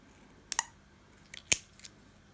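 Scissors snipping the tip off a plastic straw bud for a handmade cherry blossom: a few sharp, quiet close-up cuts in pairs, with near silence between them.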